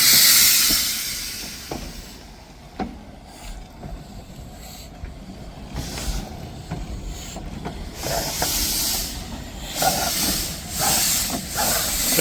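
Loud bursts of hissing steam vent from a steam locomotive in waves, rising and falling over a low rumbling background, with sharp releases near the start and end.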